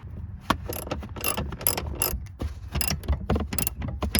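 A ratchet wrench with a 12 mm socket rapidly clicks while unbolting the seats inside a Honda Civic, in uneven bursts of close ratcheting with metallic creaks between.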